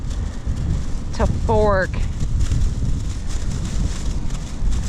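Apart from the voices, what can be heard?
wind blowing during winter surf fishing on a beach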